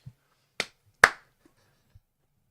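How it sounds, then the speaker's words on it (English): A single sharp hand clap rings out cleanly in a quiet room, preceded by a softer smack and followed by faint small taps. "They forgot the clap."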